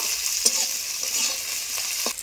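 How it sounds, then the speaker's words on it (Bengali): Onions and garlic fry lightly in a pan with a steady, close sizzle and a few soft stirring scrapes, for a karela curry; no voices. "পেঁয়াজ আর রসুন একটু হালকা করে ভেজে নেব।"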